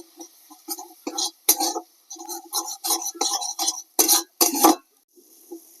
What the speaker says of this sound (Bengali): এবারে সবকিছু একসাথে কষিয়ে নেব।